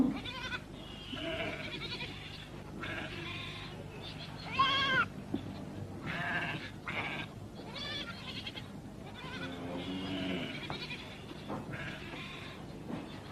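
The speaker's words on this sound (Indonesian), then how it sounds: "Kambingnya banyak bener." Goats bleating repeatedly in a village setting, several calls overlapping one another at moderate distance against a steady background murmur.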